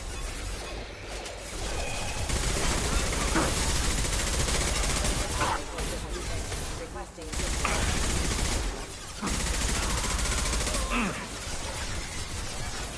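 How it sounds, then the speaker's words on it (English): Mass Effect 2 Legendary Edition video game gunfire: bursts of rapid weapon fire and impacts crackle continuously over a dense combat soundscape, with brief lulls between volleys. "Firing a high impact shot."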